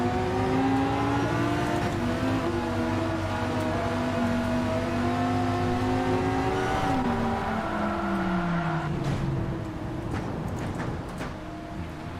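A race car engine in Gran Turismo 7 at Spa in the rain, droning loud and steady as it climbs in pitch, with a falling pitch drop as it shifts up near the end, then continues revving.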